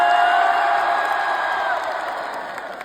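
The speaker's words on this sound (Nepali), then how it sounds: "आयोजकहरूलाई एकपल्ट जोरदार ताली" An audience at a concert in Osaka, Japan in 2025 cheers and whoops in a dense, loud roar that tapers off gradually over a few seconds.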